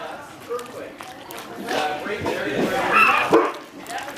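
During an earthquake, a dog yips and whimpers excitedly, with a few short barks mixed with human voices and rustling nearby.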